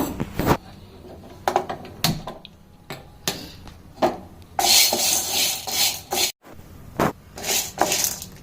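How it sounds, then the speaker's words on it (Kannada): Chana dal being dry-roasted in a pan without oil, with repeated scraping and stirring clatter of a utensil against cookware, near and fairly loud in uneven bursts, with a denser rasping stretch in the middle. "ಆಯಿಲ್ ಇಲ್ದಂಗೆ ಡ್ರೈಯಲ್ಲಿ ಹುರ್ಕೊಳ್ಳೋಣ"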